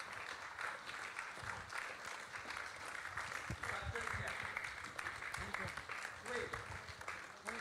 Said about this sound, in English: just receive this applause, because you really deserve every bit of it